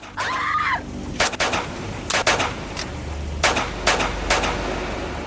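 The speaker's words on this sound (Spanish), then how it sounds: "Esa noche son 9 disparos." Nine gunshots fired at night at a couple sitting in a car, heard as sharp cracks spaced irregularly over a steady hiss, with a faint whistling tone near the start.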